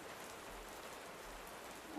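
Steady rain falls in a dense, continuous hiss with a faint low rumble beneath, the backdrop to a spoken folk horror story, heard alone with no voices.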